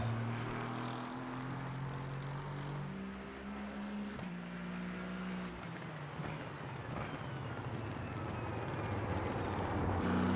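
Engine of a vehicle in a video game, a low throaty grumble and gurgle with steady harmonic drone, shifting pitch as revs change, fairly quiet and continuous.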